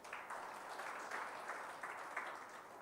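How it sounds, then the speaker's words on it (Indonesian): Steady, fairly faint applause from a church congregation clapping for Jesus, a continuous wash of hand claps lasting a few seconds with no talk over it. "Tepuk tangan buat Yesus."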